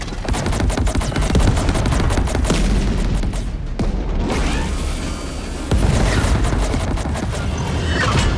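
Weapons fire in a dense volley during a space battle in the video game Chorus, loud continuous rapid bursts and booms with crashing impacts that carry on for several seconds without a break.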